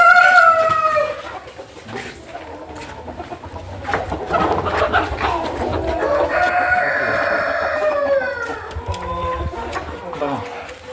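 Goliath chickens on a poultry farm, with roosters crowing repeatedly and hens clucking near and far, over a steady farmyard background and some voices.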